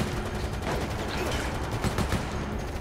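Rifle fire in a co-op session of the video game Resident Evil: Operation Raccoon City, a dense, steady run of gunshots with louder bursts near the end.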